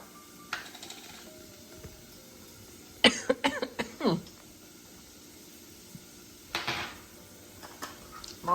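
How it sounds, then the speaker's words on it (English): Several harsh coughs burst out in a cluster near the middle and again later, close and sudden, while hatch red chili peppers are being cooked in a home kitchen, with dishes clinking faintly and people talking. "I'm always going to cough if there's peppers involved"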